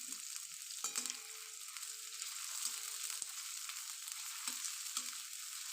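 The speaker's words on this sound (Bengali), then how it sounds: "এখন আমি কাঁচা লঙ্কা আর পেঁয়াজটা গরম তেলে দিয়ে দেবো" Green chillies and onion frying in hot oil for egg chow mein in a home kitchen, giving a steady, fairly quiet sizzle throughout with a few soft stirring knocks and scrapes near the pan.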